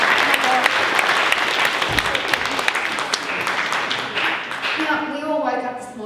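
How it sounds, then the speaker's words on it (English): An audience at a live evening show breaks into loud, dense applause that carries steadily for several seconds before thinning out, with a voice and some tonal sound rising near the end. "Round of applause."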